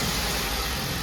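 Hyundai i20 car engine running just after being started, a steady mid-pitched idle hum held for about a second with no voices.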